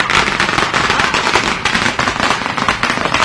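Firecrackers set off by party workers at an election campaign event in Baramati, Maharashtra: a loud, dense string of rapid crackling bangs going on without a break, close by and alone.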